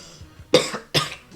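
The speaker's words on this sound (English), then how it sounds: "Well, I can hear you coughing." Two sharp coughs from one person close to the microphone, about half a second apart, with a faint voice murmuring just before.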